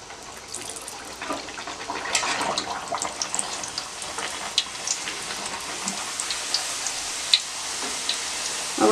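Puris fry in an open pan of hot oil, which hisses and crackles with a steady bubbling sizzle and scattered small pops, close and moderately loud with no talking.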